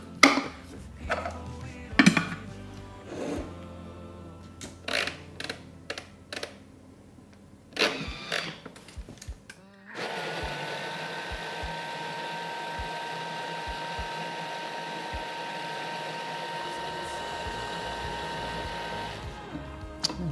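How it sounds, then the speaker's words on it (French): A kitchen blender purees courgette mousse ingredients seasoned with powdered dill and garlic, a steady loud whirring motor that starts abruptly after a few clinks and handling sounds and runs continuously for about ten seconds. "Donc je vais mixer le tout."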